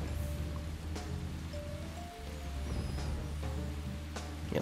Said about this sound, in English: look at this rain. See this, like, rain effect?